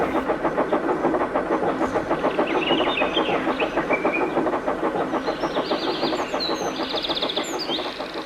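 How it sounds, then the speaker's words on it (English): A big blue steam engine thunders past with a hard, rhythmic rattle. The pulsing, loud mechanical clatter is steady throughout, and faint bird chirps sit in the background. "With a hard rattle, the big blue engine thundered by."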